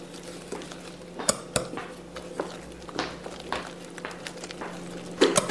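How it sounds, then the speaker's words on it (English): Light clinks and scrapes of a utensil against a bowl as corn flour is stirred, coming in short, irregular taps that stay quiet and close. "And then give the corn flour a mix."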